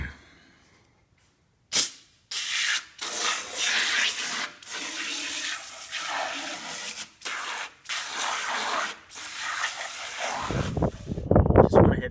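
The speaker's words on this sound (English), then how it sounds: "Spray some of this in here." Several bursts of aerosol cleaner spray hissing in quick succession into a removed oil pan from a Pontiac Fiero GT, each a couple of seconds long with short pauses between, ending in a louder rattling spray.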